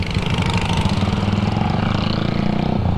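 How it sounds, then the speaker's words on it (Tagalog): A loud vehicle exhaust on a road, a steady throbbing engine drone with a rough low pulsing rumble, close and continuous without a break. "Laki ng tambutso nyo."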